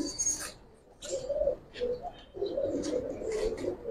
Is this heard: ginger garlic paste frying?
no